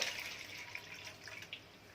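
Cold water runs from a kitchen tap in a steady, close hiss with faint splashing as it fills a vessel for homemade yogurt, continuous for about two seconds with no talking.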